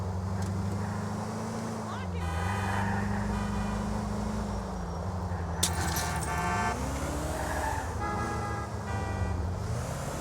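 A car driven in Grand Theft Auto IV during a mission chase, its engine droning and shifting pitch steadily while horn toots and clattering bursts break in around it.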